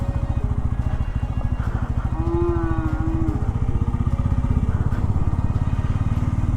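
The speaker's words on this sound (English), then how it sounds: "So many cows, I am very much afraid to go." Cows mooing along a roadside on the way to the Grand Anicut near Trichy, one drawn-out low moo rising over a steady, close motorcycle engine drone, with no speech.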